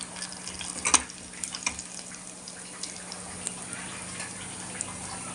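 Dried red chilli, garlic, fenugreek seeds, cumin, asafoetida, curry leaves and ginger fry in oil with a steady, close hiss, broken early by a sharp stirring scrape and a few lighter clicks of the spoon.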